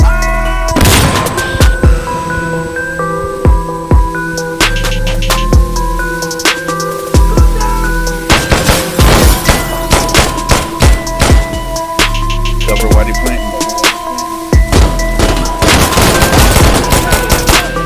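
Dense gunfire in the tactical shooter game Insurgency Sandstorm, with rapid bursts and sharp single shots cracking loudly throughout, some echoing booms, over a constant background of game ambience.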